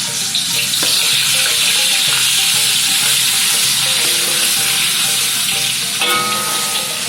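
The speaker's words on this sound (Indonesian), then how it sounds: "Panas, yang pertama kita tumis adalah bawang putih yang sudah dihaluskan." Ground garlic fries in a hot pan as the base for tuna in tauco sauce, giving a loud, continuous crackling sizzle with small pops throughout.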